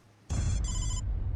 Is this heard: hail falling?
no